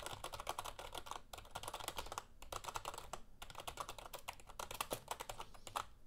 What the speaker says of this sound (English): Now let's hear what it sounds like when you're typing.